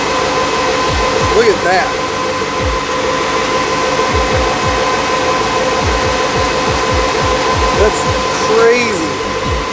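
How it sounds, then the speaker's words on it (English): Cooling fans on a 2014 Shelby GT500's triple-pass heat exchanger run loud and steady, giving a constant whooshing drone up close while voices speak briefly over it. "The fans are loud, but you can feel the air sucking in there."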